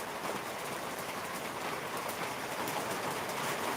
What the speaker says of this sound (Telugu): వర్షం కొంచెం ఒత్తుగా కురుస్తుంది